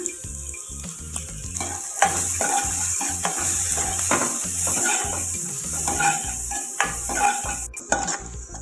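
Onion, capsicum and garlic sizzle in a pan while a utensil stirs and scrapes against the metal in repeated close strokes, with light clinks over a constant frying hiss.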